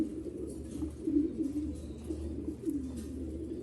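Pigeons in a breeding loft coo continuously in low, throaty, rolling calls, several birds overlapping at moderate volume against a soft background hum.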